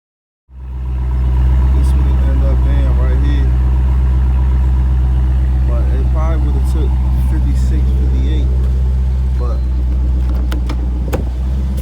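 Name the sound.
Dodge Scat Pack car engine idling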